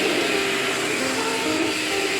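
Potli Forzaspira vacuum cleaner running with a steady, loud, broadband whirring roar and no break, no talking over it.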